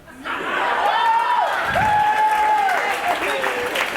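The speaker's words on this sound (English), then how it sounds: "Please give me a round of applause if you've ever given this." A stand-up comedy crowd applauds loudly and steadily with some cheering, while a voice carries on over the clapping.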